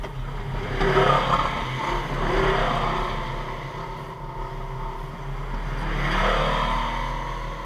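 A truck rumbles past on the dirt track of Bloody Basin Road, its engine swelling in three broad waves as it nears and moves off, with a steady low drone between.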